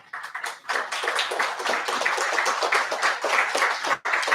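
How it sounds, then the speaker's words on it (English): Audience applause at a hardware startup meetup in Stockholm, dense continuous clapping that starts abruptly, holds steady, and breaks briefly near the end before resuming. "big round of applause"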